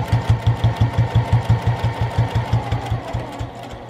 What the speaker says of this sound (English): needle down, pull up your presser foot, turn your project, straighten out your binding, and then just keep on going